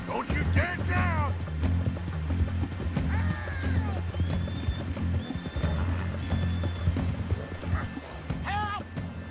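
A horse clip-clops and whinnies in the Red Dead Redemption 2 video game, rhythmic hoofbeats under repeated neighs, with voices talking over the action.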